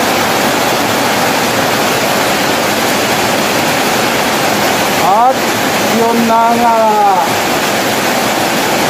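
Heavy rain during a road bike ride to Norzagaray, a dense, steady hiss of falling water throughout, with someone speaking briefly partway through and a short warbling tone over the rain.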